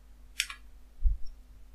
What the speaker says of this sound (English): Let's share this folder by right clicking on it and select properties.